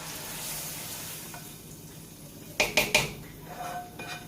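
Sizzling spinach tempering being stirred into a pot of harissa, with a few sharp metallic clinks of a spoon against the rim, a soft stirring scrape beneath.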